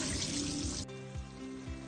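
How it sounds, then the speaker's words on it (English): Water pouring and trickling out of a bowl of cut potatoes as the excess soaking water is drained off, a steady close splashing flow that shifts partway through. "We can then drain out the excess water."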